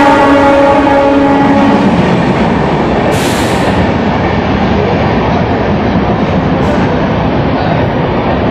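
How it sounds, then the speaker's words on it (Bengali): A Mecheda–Digha local train begins to move, filling the space with a loud, dense, continuous rumble and rattle, with a brief sharp hiss partway through. "সবাই ফাইনালি ট্রেনের তো উঠে বললাম, এবার ট্রেন চালুক"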